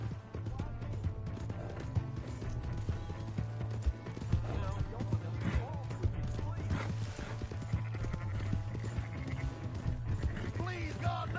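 Galloping horse hooves in Red Dead Redemption 2, continuous rapid clip-clop with occasional whinnies, layered over a low drone and background game sounds while voices speak throughout.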